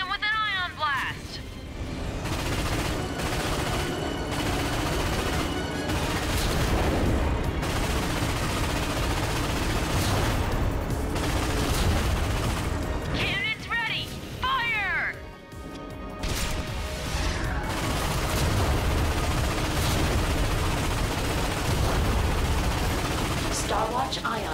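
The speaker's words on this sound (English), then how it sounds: "cannon charges, open fire!" Loud, continuous Ratchet & Clank (2016) combat: rapid booming cannon fire and crashing impacts with laser-like zaps and a voice speaking over the barrage.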